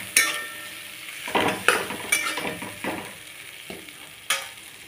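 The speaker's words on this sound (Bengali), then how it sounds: "তো সব কিছু দিয়ে আমি ভালো করে মশলাটা কিন্তু কষিয়ে নেব।" Spices with chili sautéing in oil in a pan, stirred with a utensil that knocks and scrapes the pan in irregular bursts over a soft, continuous sizzle, heard close with no talk.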